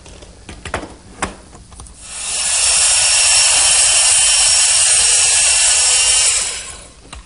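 A table saw spins up and cuts through wood in one steady, loud whining pass lasting several seconds, then winds down, after a few faint knocks and handling sounds.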